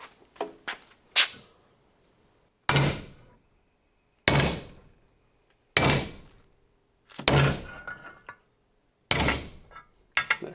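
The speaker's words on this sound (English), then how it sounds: "Maybe an even bigger hammer." A few light taps, then six heavy metallic hammer blows on a worn brake rotor of a 1974 Corvette Stingray land about every one and a half seconds, each ringing briefly before silence.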